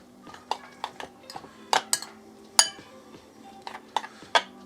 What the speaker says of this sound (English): give it a mix around to coat it in the vinegar